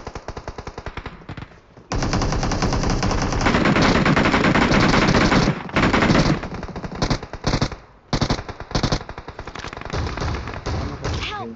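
Loud, close automatic gunfire in the battle royale game BGMI comes in rapid bursts and sustained volleys with brief pauses between strings of shots.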